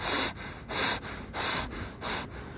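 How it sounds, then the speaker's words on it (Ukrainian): A person breathes in sharply through the nose several times in an even rhythm, each close, loud sniffing inhale separated by short pauses, with no talk. "носом дихаю."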